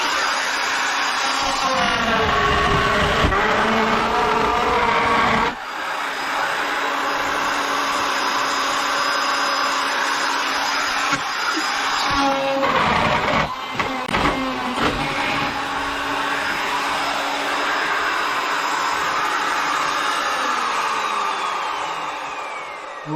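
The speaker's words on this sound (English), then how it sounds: "let me get the router" A handheld router cuts into wooden planking during a boat plank repair, giving a loud, sustained high whine that briefly drops and recovers as the bit bites into the wood, with a short stop midway.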